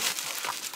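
Plastic bags rustle and crinkle as they are handled while unpacking retro games at a shop, a continuous close papery crackle without talk.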